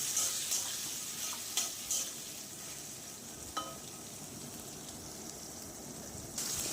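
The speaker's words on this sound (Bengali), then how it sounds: "আলুটাকে একটু লাল করে ভেজে নিচ্ছি" Diced potatoes fry in a pan until reddish for a dhundhul (sponge gourd) dish, with a continuous close sizzle broken by several sharp spatula stirs and scrapes.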